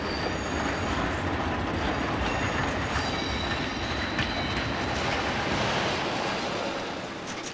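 A train rolls along the rails on a heritage line between Alton and Alresford, a steady broad rumble with faint rhythmic clatter and occasional squeals, continuous and moderately distant, with no voices.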